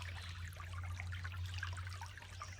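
A woodland creek trickles and burbles softly and continuously from a bank, a quiet, even flow with a low steady hum underneath.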